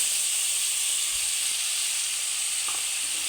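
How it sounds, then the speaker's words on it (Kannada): A freshly ground masala paste fries in a pan for masala chitranna, giving a steady, loud, close sizzle and hiss with a few faint stirring knocks. "ಸ್ವಲ್ಪ ಹಸಿ ವಾಸನೆ ಹೋಗೋವರೆಗೂ ಫ್ರೈ ಮಾಡ್ಕೊಳ್ಳೋಣ ಚೆನ್ನಾಗಿ"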